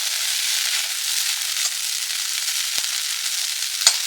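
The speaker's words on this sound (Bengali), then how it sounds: "তো এইটা দেখো এরকম ভাজতে ভাজতে না একদম ঝুড়ো ঝুড়ো হয়ে যাবে" Snack frying in a pan until crispy, a steady close hiss of bubbling oil with a couple of sharp pops.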